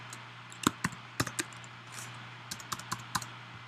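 Someone types on a computer keyboard while coding Java, producing a sparse sequence of crisp, close key clicks in small irregular clusters over a low steady hum.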